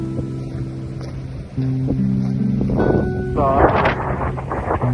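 Wind gusting along a seaside street at Tankerton on a rough day, a steady loud rumble buffeting the microphone, with people talking over it.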